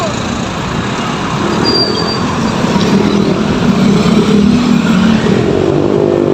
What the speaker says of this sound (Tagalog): Oh, may sasakyan oh.